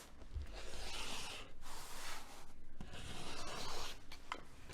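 Layer-cake quilting fabric being cut: steady rasping, rubbing strokes close by, in several long passes separated by short breaks.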